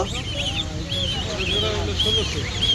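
Goose goslings call repeatedly in thin, rising peeps, close by at a bird market, with a voice talking underneath.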